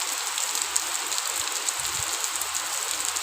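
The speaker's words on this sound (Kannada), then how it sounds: "ಮಳೆ ಬಿಡ್ತಿಲ್ಲ, ಈಗ ಬಂದೈತೆ ಮಳೆ." Steady rain falling, a dense, even wash of drops close by that continues unbroken throughout, with faint low rumbles underneath.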